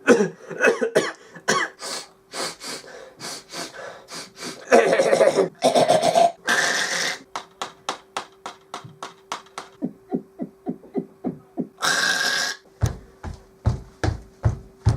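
Repeated coughs in a quiet exam room come in quick, close bursts, with occasional harsher hacking and breathy gasps between them, loud and near.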